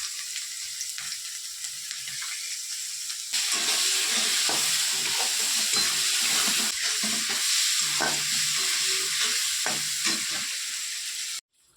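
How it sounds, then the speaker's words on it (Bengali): Cauliflower fries in hot oil seasoned with salt and turmeric, sizzling loudly and steadily up close with stirring and clatter in the pan, swelling louder partway through, then cutting off abruptly; no voices. "সেই তেলের মধ্যে আমি অল্প অল্প করে ফুলকপি ভেজে নেব নুন আর হলুদ দিয়ে"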